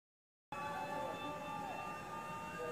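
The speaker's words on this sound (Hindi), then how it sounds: "चारों तरफ ऐलान ही ऐलान हो रहे हैं, सायरन बज रहे हैं" Sirens wail steadily at Ramadan sehri time, a faint, distant, sustained tone with a layered drone, heard from afar after a moment of silence.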